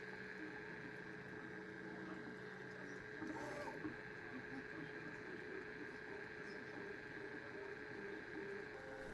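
Experimental crossed cantilever 3D printer at work printing a tall vase, a steady motor whine with tonal stepper hums and soft mechanical whirring, close and continuous, with a brief busier burst midway.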